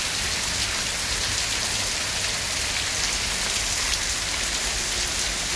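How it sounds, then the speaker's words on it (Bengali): Heavy rain pours down at railway quarters as a dense, continuous hiss of drops striking surfaces, steady and loud throughout with no voices. "প্রচন্ড বৃষ্টি হচ্ছে।"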